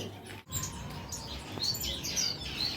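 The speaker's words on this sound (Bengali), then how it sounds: "এই হলো টোটাল আমার ব্রিডিং করানোর পাখি" Finches in breeding cages chirp, with a scatter of short, high, bright tweets overlapping one another close by over a soft background hiss. No one talks.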